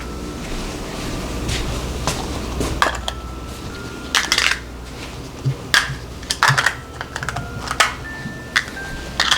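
Plastic dome lids snap onto parfait containers in a kitchen, a series of sharp crisp clicks and crinkly plastic crunches, irregular and close, some in quick pairs.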